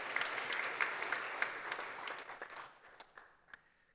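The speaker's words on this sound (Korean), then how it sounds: "우리 격려의 위로의 박수 한번 드리겠습니다" A church congregation claps during a Sunday worship service, a moderate burst of applause that thins out and fades over a few seconds, heard from a distance in a reverberant hall.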